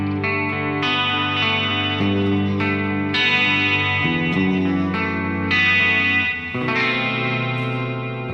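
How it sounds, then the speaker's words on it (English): Electric guitar through a Fractal Audio pitch block with a stereo modulation delay, giving a thick detuned chorus shimmer; chords ring out steadily for several seconds, close and loud, with no talking. "the pitch block, so you can produce a sound like this"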